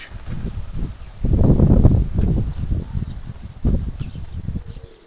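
Strong, gusty wind buffets the microphone outdoors near a flock of pigeons, coming in loud rumbling bursts that rise and fall, with faint flapping wings and rustling mixed in.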